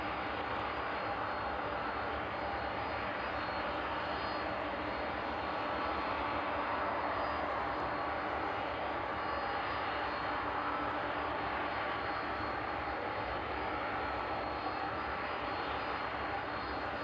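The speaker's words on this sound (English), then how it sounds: "we'll keep our eyes on the 18 just for a minute or so as that 767 gets closer" A Boeing 767 airliner approaching an airport gives a faint, distant, steady jet roar that drones on evenly throughout without other sounds.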